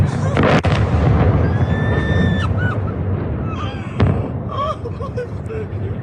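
Missile strikes hit a target during an attack on Ukraine, producing loud, booming explosions with sharp bursts near the start and again around the middle, mixed with rumbling and distant whistling noises.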